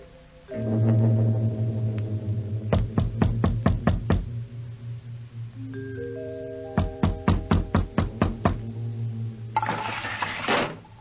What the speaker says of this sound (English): You'll have to knock on the door.